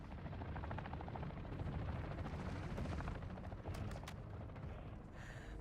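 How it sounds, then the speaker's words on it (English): An enemy helicopter in a combat video game gives off a steady, loud rotor thrum throughout, mixed with bursts of distant gunfire. "We got enemy helicopter."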